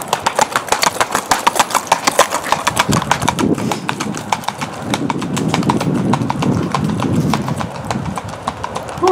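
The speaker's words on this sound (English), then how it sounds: "Ooh, that horse is gated nice." Hooves of a gaited horse clip-clop in a quick, steady rhythm, clear and fairly close, with an engine humming low in the background.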